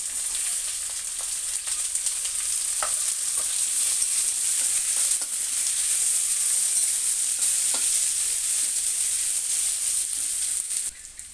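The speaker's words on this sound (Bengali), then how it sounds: "আর আমি তেলের মধ্যে পেঁয়াজ দিয়ে দিচ্ছি" Onions sizzle and fry steadily in hot oil in a home kitchen, a continuous close hiss with a few faint clicks and pops throughout, no voices.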